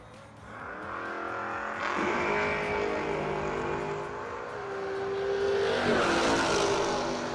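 Chevrolet Monza drag car launching down the strip at a no-box drag race, a loud sustained engine roar that climbs through the gears, swelling again as it passes.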